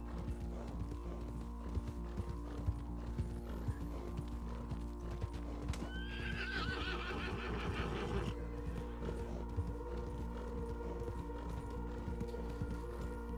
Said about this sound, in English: You're gonna get on the back of Sheriff Swan's horse, wearing all black